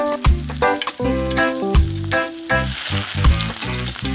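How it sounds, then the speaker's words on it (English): Miniature potato fries frying in hot oil in tiny cookware, a close, loud sizzle broken by repeated clinks and knocks of utensils, with bursts of bubbling throughout. "Then fried it. It started to smell delicious."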